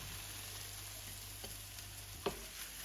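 Croutons frying in smoking hot oil in a pan give a steady, close sizzle with a faint hum underneath, broken by one sharp clink near the end.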